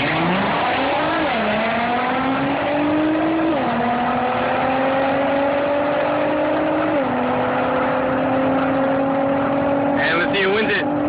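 Nissan GTR race cars, including a 2012 Black Edition, roar loudly through a drag race, engines climbing in pitch with each gear shift across several upshifts, a sharp squeal or pop near the end.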